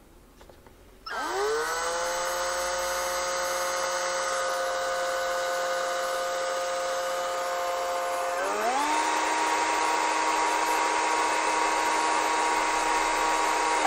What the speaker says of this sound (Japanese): ドリルにこういうふうにまあ きっちりはめますと それで回してみる